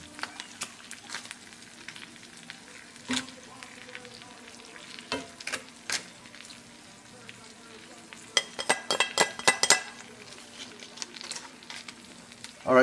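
Nacho or shrimp ingredients being spread around a hot pan, giving a steady low sizzle with scattered scraping taps and a brighter crackling burst near the end, at close range and with no talk over it.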